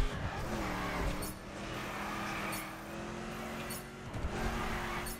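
A car drifts in The Crew, its engine droning steadily while tires squeal in repeated sweeping bursts, heard alone without talk at modest volume.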